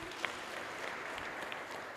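A congregation claps during a Kikuyu Sunday church service, a steady brief patter of many hands with a few sharper claps standing out.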